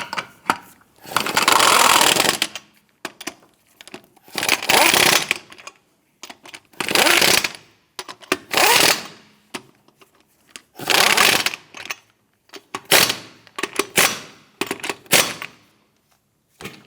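A power tool tightens brake hose bolts on a 2008-2013 Nissan Rogue in about eight loud whirring bursts, each a second or two long, separated by short quiet pauses.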